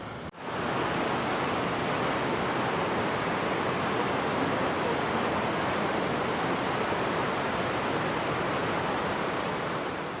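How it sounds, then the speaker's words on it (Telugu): The Trümmelbach waterfall near Lauterbrunnen roars inside its mountain cave, a loud, dense, unbroken rush of water that fills the space after a brief cut at the start, with no voices. "ట్రమల్ బక్ వాటర్ ఫాల్ కదా అది."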